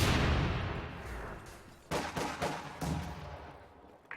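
Mortar fire in Company of Heroes 2 during a 1v1 match: a loud blast that decays slowly, followed by a rapid cluster of sharp impacts and a few more thuds, mid-distance.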